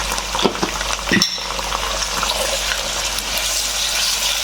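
Potatoes frying in a pan for a jackfruit seed curry, a steady broadband sizzle with a few louder stirring clatters near the start, continuous and close.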